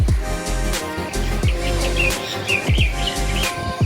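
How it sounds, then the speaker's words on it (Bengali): Several birds chirp and tweet together in a lively mix of short calls, with repeated low thumps underneath and no talking. "বাগানটার ভেতর না কিচির কিচির করে কত রকম পাখি ডাকে"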